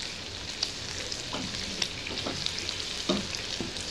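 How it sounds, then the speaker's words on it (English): Penne pasta frying in hot oil, a steady close sizzle with occasional pops and stirring scrapes throughout, no talking. "because as they fry, they're going to start to puff out a little bit"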